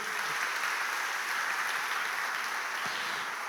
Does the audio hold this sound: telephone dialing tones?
no